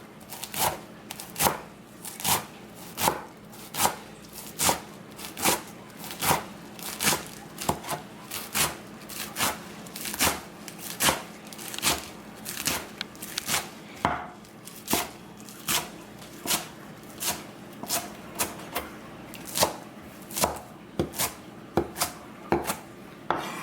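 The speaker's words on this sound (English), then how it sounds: "I just slice it" Steady series of sharp, evenly spaced knife chops through tightly bunched kale on a cutting board, close and crisp, about forty cuts with brief pauses, no talk.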